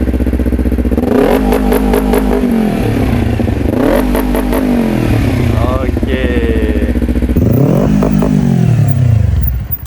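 A Honda CBR250RR motorcycle engine revs hard several times, rising and falling in pitch between loud, rapid throttle blips, close by; a voice speaks briefly.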